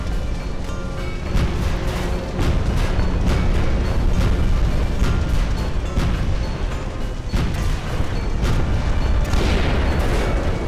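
Continuous rumbling booms and crashes as a burning airship explodes in the video game Guns of Icarus, loud and sustained with scattered sharp impacts throughout and no talking.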